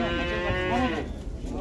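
A white cow gives a single long, loud moo at a livestock market, its strong harmonic call sliding in pitch and filling the moment up close.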